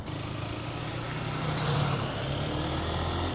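A motorcycle rides steadily through traffic in Mexico with a continuous engine drone, while strong wind noise and surrounding road traffic fill the background.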